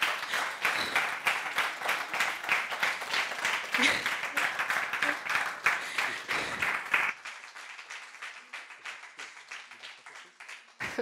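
An audience claps at a children's event in Corsica, dense applause for about seven seconds that then drops away to near quiet.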